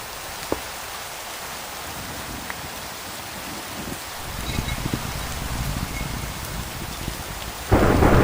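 Rain patters steadily in a Minecraft thunderstorm, thickening into heavier rainfall with low rumbling thunder partway through and a sharp, loud crack near the end.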